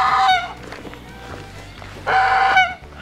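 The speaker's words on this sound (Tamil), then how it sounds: "இது வாத்து மாதிரி தான் இருக்கு. ஆனால் வித்தியாசமான ஒரு வாத்து" Geese or similar duck-like fowl on an organic farm in Normandy, France, honking loudly in two harsh, nasal bursts at the start and end, with quieter rustling farmyard noise between them.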